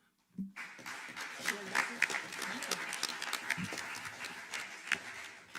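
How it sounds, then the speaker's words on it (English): Steady applause from the audience at the XTERRA World Championship press conference in New Zealand, a dense sustained patter of many hands lasting several seconds, fairly faint. "Under your applause, please, ladies and gentlemen"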